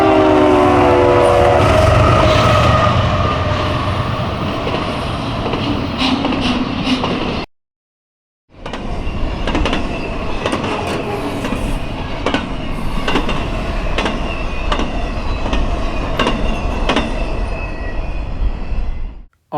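A CSX freight train led by locomotive CSX 888 passes close and loud, its horn blaring at first, then a continuous roar of wheels with steady rhythmic clickety-clack over rail joints, briefly cut off once.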